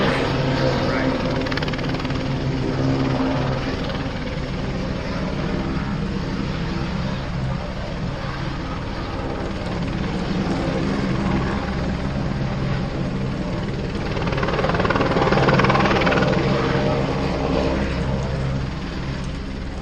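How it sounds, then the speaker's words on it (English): A helicopter's steady rotor and engine drone runs throughout, swelling louder toward the end, with people talking over it. "We got a Joe Schmo helicopter."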